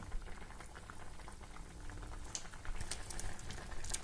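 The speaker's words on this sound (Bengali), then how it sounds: "একটু ঢেকে দেবো যাতে সবজিটা সেদ্ধ হয়।" Vegetable chicken soup with spices boils in a covered pot, giving a soft continuous bubbling and popping with crackly patter and no voices.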